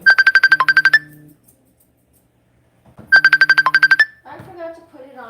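A phone ringtone goes off during a live dog-grooming session, two bursts of a rapid, loud, pulsing electronic trill separated by a pause, with a voice speaking briefly after the second burst.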